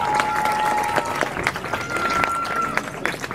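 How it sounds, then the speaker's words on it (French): Audience applause at the final of a singing competition fills the space with dense, steady clapping and a few cheers, loud and sustained throughout. "Vous pouvez l'applaudir plus fort, s'il vous plaît."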